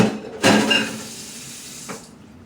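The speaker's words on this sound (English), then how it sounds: "Rinse off this plate." Water from a kitchen tap splashing over a plate being rinsed, a brief loud gush that tapers off, then a second short splash, with no talking.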